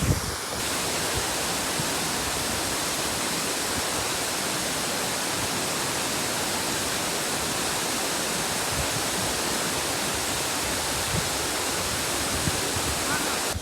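A stream in the Sahyadri hills, a dense, loud and steady rush of flowing water heard up close, unchanging from start to finish.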